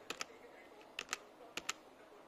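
Fingers tapping a computer keyboard to enter a username, six crisp clicks falling in three quick pairs with short pauses between, close and clear against a quiet room.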